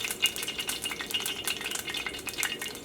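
Chicken kabab vadas frying in oil give off a quiet, steady sizzle with soft crackling bursts throughout, close by, with no voices.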